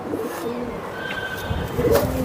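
Silver Giribaz pigeons cooing at a pigeon market, soft low coos over a busy background.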